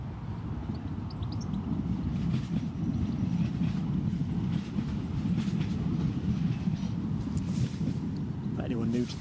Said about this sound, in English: that is the metro line that runs directly behind the position. It's a regular feature of the show, the sound of rumbling trains.